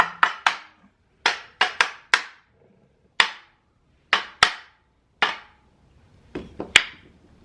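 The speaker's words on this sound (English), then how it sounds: "Line up our dowel pins. Get a rubber mallet." A rubber mallet taps a clutch plate onto its dowel pins: about a dozen crisp, close knocks in short irregular clusters, separated by brief silences.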